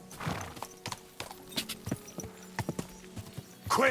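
Rhythmic clip-clop of horse hooves galloping in Kingdom Come: Deliverance, a quick run of moderately close thuds, with a brief horse whinny at the end.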